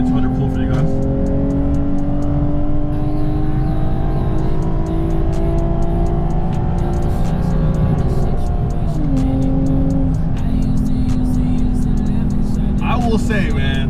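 A tuned 2008 Lexus IS350 V6 engine is held at a loud, sustained rev climbing toward 7200 RPM, its steady harmonic whine rising and briefly dipping, heard close up and continuous throughout.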